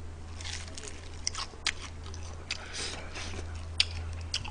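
Crunchy bites and chewing of crispy fried chicken with a curry-seasoned batter, eaten without salt, close up, with scattered sharp crackles over a low steady hum.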